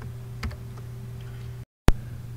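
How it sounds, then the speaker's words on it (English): Keystrokes on a computer keyboard, a few isolated taps spaced apart with a steady hum underneath, one sharp click standing out near the end. "You should now type in open parentheses,"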